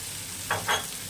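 Masala of red chilli, coriander and cumin powders with salt sizzles softly in a pan under a constant hiss, with two short bursts of louder sputtering close by as it is stirred.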